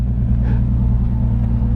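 Drift car engine rumbling deep and loud from close by, a steady heavy drone on a track.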